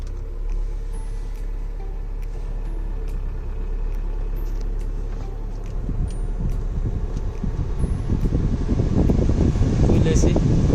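Inside a Tata H5 truck cabin, the air conditioning fan starts blowing over the idling engine, its rushing whoosh growing steadily louder until it dominates near the end.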